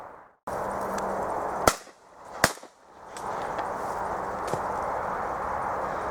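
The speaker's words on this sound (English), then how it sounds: "Sam's just gone and shot that" Two sharp, loud shotgun blasts ring out a moment apart over a flat laid crop field during pigeon shooting, each snapping hard then decaying into open-air quiet amid steady background hiss.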